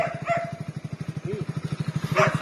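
A dog offered for free adoption in Cuttack cries with a drawn-out whine over a fast, rhythmic pulsing like a nearby idling motorcycle, with a couple of brief yelps at the start and end.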